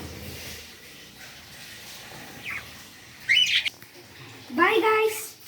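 Pet cockatiels in a cage let out two sharp, loud squawking chirps close by, separated by a pause, with quieter rustling and faint calls between them.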